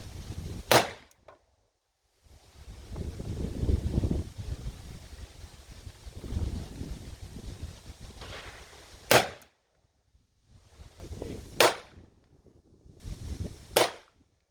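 Antique rimfire and Colt cartridges fire at an outdoor shooting range: four sharp, loud gunshots ring out at uneven intervals, one early and three later, with rumbling wind or handling noise between them.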